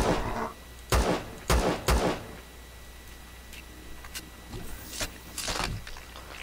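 Gunshots fired in the Empyrion Galactic Survival video game at a mining complex: three sharp loud reports in quick succession, then a few fainter scattered shots and bursts.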